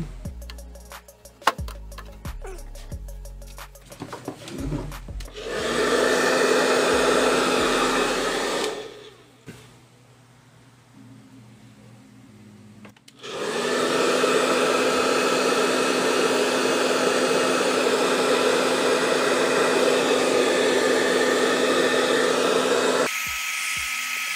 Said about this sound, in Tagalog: Dahil gagamit ako ng blower